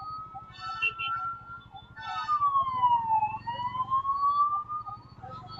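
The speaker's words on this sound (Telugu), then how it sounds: "అంబులెన్స్ సౌండ్ వస్తుంది స్లోగా" Ambulance siren wailing in Bangalore traffic, a rising and falling tone that sweeps up and down over the steady rumble of the road, fairly clear and continuous.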